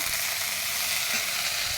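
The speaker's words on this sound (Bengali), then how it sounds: "পটলটাকে ভালো করে প্রথমে ভেজে নেব।" Pointed gourd (potol) frying in oil in a pan, a steady, close, loud sizzle with faint stirring, heard alone with no talk.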